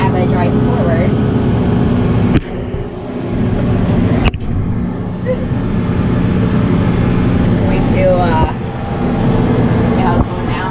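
A tractor drags a subsoiler through the soil, its steady diesel engine drone loud and continuous, with brief dips and a couple of sharp knocks, and someone talking over it throughout.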